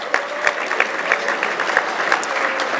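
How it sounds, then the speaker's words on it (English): Dinner audience at a 2021 award banquet applauding the hospitality waitstaff for their service, a steady dense patter of many hands clapping throughout, with a faint murmur of voices underneath. "I would like to have us all give them a round of applause for their service."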